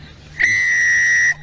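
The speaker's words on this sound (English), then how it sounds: "Gaughan gets us underway with a shrill blast of the whistle" A referee's whistle sounds one sustained shrill blast of about a second to open a women's rugby match in the Celtic Challenge, loud and clear over faint background noise.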